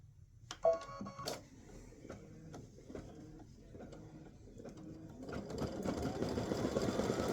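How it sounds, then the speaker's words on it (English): An embroidery machine stitches a satin stitch, nearby and steady, with a few sharp clacks at the start before settling into a rapid, continuous mechanical whir that swells slightly toward the end. "I'm going to stitch the satin stitch."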